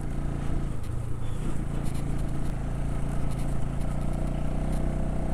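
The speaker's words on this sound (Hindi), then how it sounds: "बाइक तो चढ़ता ही नहीं है," A motorcycle engine strains to climb soft soil on a hairpin turn on the high-altitude road to Kela Pass at 18,600 ft. The drone is loud, close and continuous, with a steady low rumble throughout.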